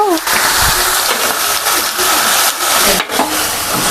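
Chicken is tipped into a hot pan of browned onions, giving a loud, continuous sizzle with scraping and clattering as the pieces are stirred. A voice is faintly present close by.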